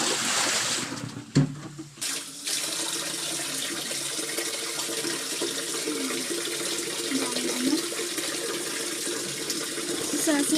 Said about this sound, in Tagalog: banlawan na natin guys